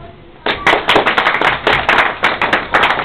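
A small audience at the Guinean embassy in Brussels breaks into loud, close clapping after a quiet moment, sharp uneven bursts of hand claps rising and falling in quick waves.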